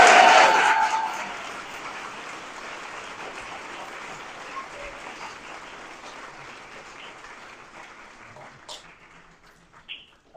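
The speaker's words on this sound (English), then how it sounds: "Let's give her a round of applause." A burst of applause for a staff member at a community school show fades quickly after the first second, leaving quiet room ambience with a few scattered sounds.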